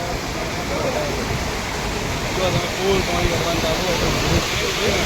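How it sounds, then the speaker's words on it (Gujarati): Steady rushing water flows continuously, a broad noisy wash of Saraswati river water pouring across a road, with faint voices in the background. "આખા રોડ ઉપર આવું આવું પાણી હેડા"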